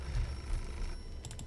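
A telephone rings in the video game Beholder, its short repeated trill bursts arriving near the end of the moment over a low, murky game backdrop.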